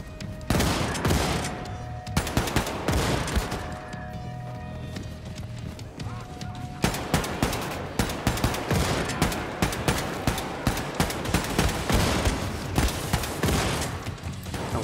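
A shotgun in Wolfenstein 2 fires again and again in a steady run of loud, close blasts amid dense combat noise, with a voice talking over the shooting.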